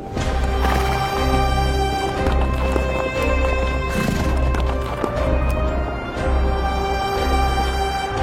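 Horses walk a mountain trail in Mongolia, a steady close clip-clop of hooves repeating about once per second over a continuous background, with a brief whinny-like sound midway.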